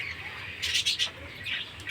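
A tame cockatiel in a colony gives a few quick, shrill chirping squawks close by, a short burst followed by a softer call over quiet background.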